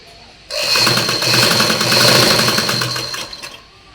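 Electric sewing machine runs in a single steady burst of rapid stitching along a folded collar edge, a close, loud whirring chatter that starts abruptly, holds for about three seconds, then stops.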